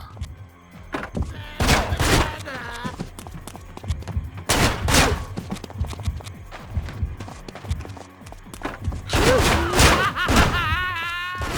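Heavy shotgun blasts from the game Manhunt, a few loud booming shots spaced seconds apart, mixed with thuds, running footsteps and game voices between them.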